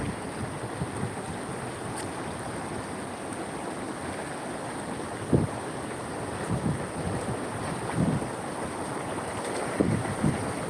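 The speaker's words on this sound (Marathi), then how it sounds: "पूल भरून नदी वाहत आहे सध्या" Floodwater from a swollen river surges across a bridge after heavy rain, a continuous broad rushing roar with wind noise and occasional louder splashing swells.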